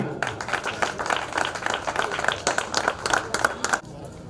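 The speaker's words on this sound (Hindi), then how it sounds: "जोरदार तालियां" Audience at a credit cooperative society's new office ceremony claps where cheques are handed out, a moderate run of individual claps with a voice faintly underneath, ending abruptly near the close.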